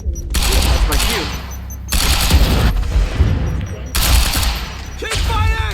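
Sustained automatic gunfire in the shooter game Quantum Break, loud and close, in long bursts broken by short pauses, with shouted voices over the shooting.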